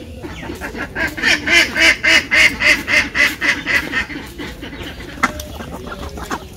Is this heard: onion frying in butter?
no